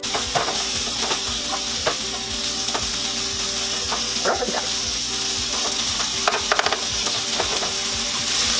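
Four strips of bacon sizzle in a pan with a steady, close crackle and scattered sharp pops of spitting grease, with no voices.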